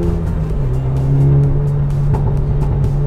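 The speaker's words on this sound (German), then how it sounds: "Von unten raus hat er manchmal ein bisschen Mühe, verhältnismäßig, aber dann ab 2000 Touren schiebt das Ding an." Renault Megane R.S. Trophy-R engine revving loudly and steadily, a strong continuous drone with a few brief hard pulses, heard alone with no voices.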